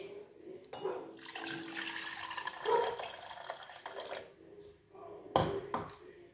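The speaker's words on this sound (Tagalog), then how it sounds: "Tapos, lagyan natin ng tubig." Water splashes and pours steadily into a pot of red-flavored gelatin mix for several seconds, with a brief pause before a final louder gush near the end.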